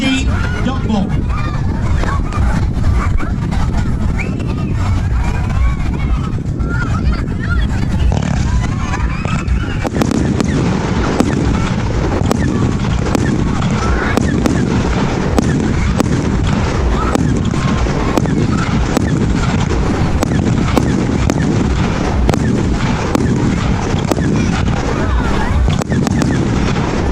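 A 25-shot 1.3G firework cake fires a dense, continuous volley of loud booming bursts, with the cracks growing sharper and thicker after the first few seconds, at an outdoor village fireworks display.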